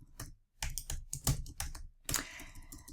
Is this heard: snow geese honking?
no